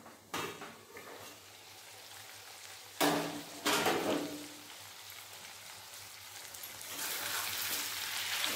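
Chicken curry meat frying in a pan, with a steady sizzle plus two sharp metallic clanks of a lid or utensil near the start, and the frying swelling louder toward the end; no talk.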